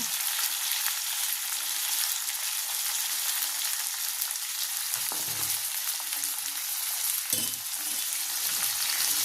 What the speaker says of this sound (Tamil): இப்போ இதை நல்லா வதக்கிட்டு நம்ம குழம்பு அதை அரைச்சிட்டு வந்து இதில் ஊற்றிடலாங்க.